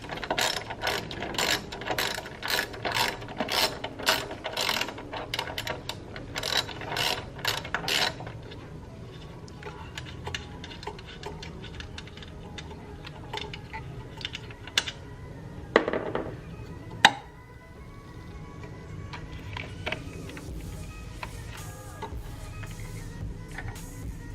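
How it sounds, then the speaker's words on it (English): A hand ratchet loosens igniter bolts in the engine bay of a Toyota JZX110 Mark II, rapid rhythmic clicking for several seconds, then sparser clicks and small metallic knocks, close up. "So I'm just about to undo the igniter."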